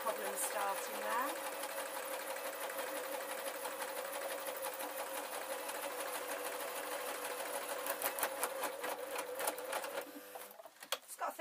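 A sewing machine with a bobbin tension fault stitches a foam square pencil case, running in a fast, steady rattling whir for several seconds before stopping, with a few brief clicks near the end.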